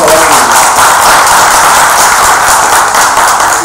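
Dense, continuous applause from a seminar audience in a Jaipur hotel, loud and close, filling the whole stretch without pause.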